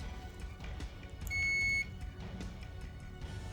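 A multimeter set to its continuity buzzer gives one steady, shrill electronic beep of about half a second while probing a TRF A64 speaker's AC jack wiring, clear over a low background hum.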